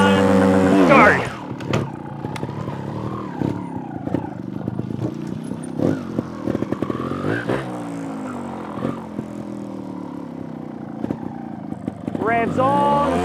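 Motorcycle engine revving in first gear during slow obstacle riding, with repeated rising and falling revs under steady talk from a nearby instructor.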